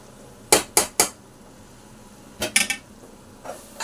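Spoon scraping and knocking against a pot while frying masala for goat lung curry, a few sharp metallic clatters in two quick clusters, close and fairly quiet, with no talking.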